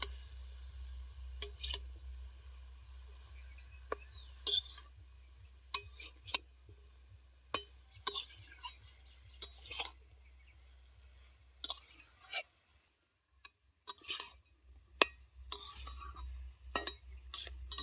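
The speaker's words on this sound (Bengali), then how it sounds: "দিয়ে দিচ্ছি পরিমাণ মতো হলুদ দিয়ে খুব ভালোভাবে এটা আবার নেড়ে নিচ্ছি" Vegetable curry with turmeric is stirred in a pan, with scattered scrapes and clinks of a utensil against the metal over a faint low hum, quiet and intermittent.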